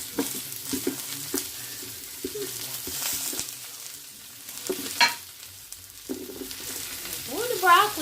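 Vegetables fry in hot oil in a big pan, with a continuous close sizzle broken by frequent clinks and scrapes of stirring utensils.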